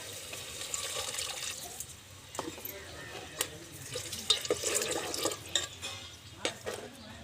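A glassful of water is poured into a pot of spiced sprouted moth bean curry for misal cooked on a wood-fired stove, giving a splashy, gurgling trickle with a few sharp drips and clinks against the pot.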